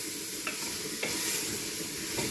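Chicken curry sizzles steadily in a hot pan while a spoon stirs it, with a few sharp scraping clinks against the pan over the constant frying hiss; no speech.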